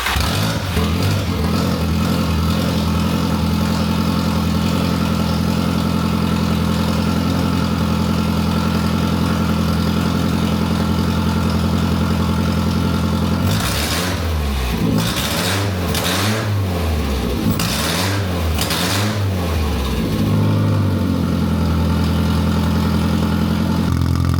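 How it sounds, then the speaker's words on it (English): An Audi/VW 1.8T swapped engine runs with a newly made exhaust lacking resonators, a loud, rough, tractor-like idle that holds steady before several sharp revs in the middle and settles back to idle. "Let's turn it on, see how it sounds."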